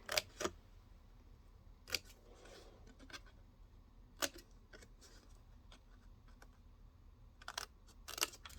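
Scissors cutting paper pieces for a Halloween shadow box craft, a handful of sharp snips scattered across the clip with quiet pauses between them, close and clear with no talk.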